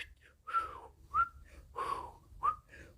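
A person whistles a short tune alone, four rising notes spaced about half a second apart, soft and close.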